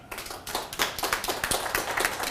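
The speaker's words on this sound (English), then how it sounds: "Oh, I got clapping." A small crowd at a political speech in Tannersville, New York claps loudly and continuously for about two seconds. The close, crisp hand claps come with no speech over them.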